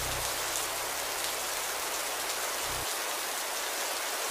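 Heavy rain in the Roblox video game pours as a dense, steady hiss of downpour, constant and loud throughout, with a low rumble that cuts off partway.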